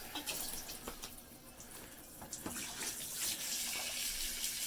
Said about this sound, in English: And then turn the water on.